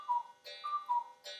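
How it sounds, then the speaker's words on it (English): A cuckoo clock striking eleven o'clock sounds its two-note cuckoo call, the paired tones repeating in a steady rhythm, clear and close with no talking. "that's just me telling you what the cuckoo clock is telling us"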